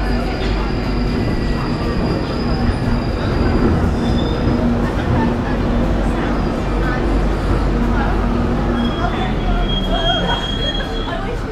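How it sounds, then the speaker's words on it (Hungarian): A London Underground metro train arrives at a station in the outer suburbs, with a loud, continuous rumble of rolling carriages and high, thin wheel squeals cutting through near the end. "Két perc múlva jön a metró"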